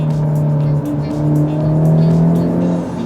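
A car engine on the road holds a smooth, steady drone that rises slightly in pitch, loud and close, with a brief dip partway through and no talking.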